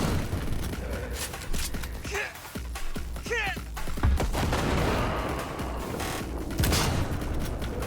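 Gunfire in the Cyberpunk 2077 video game, with sharp sniper rifle cracks and other shots scattered over a busy combat background, some hits louder than others, and a voice talking at moments.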